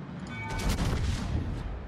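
USS Missouri battleship guns firing in World of Warships, a heavy booming salvo that swells into a rolling rumble and lingers, moderately loud.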